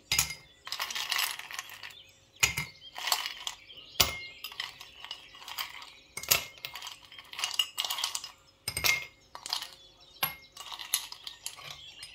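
Ice cubes are dropped into a glass for a sugarcane juice drink, producing repeated loud clinking clatters in uneven bursts, each rattle settling briefly before the next handful falls.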